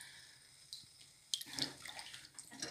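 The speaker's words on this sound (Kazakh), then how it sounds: "Тағы да міне мұздай суға жуып аламыз" Pumpkin pieces washed in ice-cold water for a Kazakh boiled pumpkin dish; quiet at first, then a burst of splashing and sloshing water with small drips, close by and without talk.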